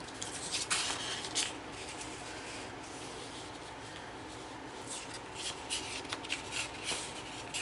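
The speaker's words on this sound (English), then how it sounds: "so let's cut this in half" Scissors cutting a piece of orange paper in half, a soft continuous snipping and rustling close by, with a few brighter crisp cuts and paper handling noise, no talking.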